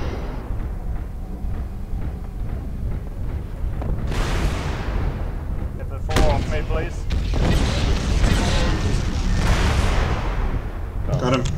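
Weapons fire against a Thor mech in MechWarrior Living Legends, rumbling booms and bursts of blasts layered over a constant battle roar, with players talking over the fighting.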